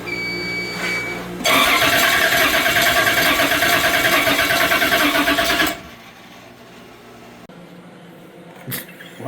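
A super late model race car, number 114, fires up with a sudden loud roar, runs hard for about four seconds, then cuts off abruptly into near quiet.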